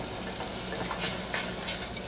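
Spices stirred through sizzling garlic and onions in a hot pan give a steady, dense frying hiss with soft scraping bursts as the mixture is moved around.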